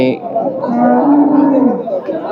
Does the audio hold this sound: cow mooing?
yes